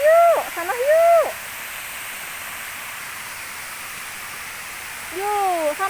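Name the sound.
waterfall at a park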